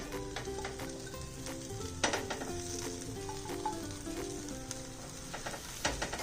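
Bread toasting in butter on a hot tawa griddle gives a steady, close sizzle and crackle that runs throughout, with light stirring or scraping noises and faint background music underneath.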